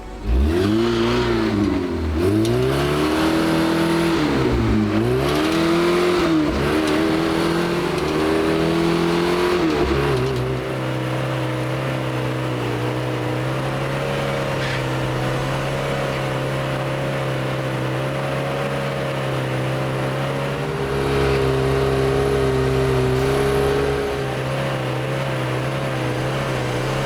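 A leaf-sprung Toyota off-road rig works extreme trails, its engine loud and close throughout, revving and rising in pitch in repeated surges, then holding a steadier, heavier drone with occasional climbs.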